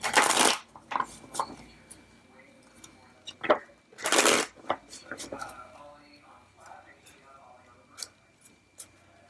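Tarot cards are shuffled in several quick papery bursts and riffles, close and fairly quiet, with small taps and handling noises between them.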